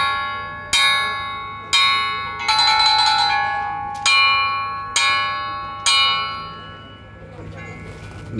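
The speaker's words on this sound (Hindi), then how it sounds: "अब ये घंटी की आवाज़ सुनी है ना" A loud, ringing metal bell, likely at a train station, struck about seven times at a steady pace of roughly one per second, each clang bright and sustained before fading into the next.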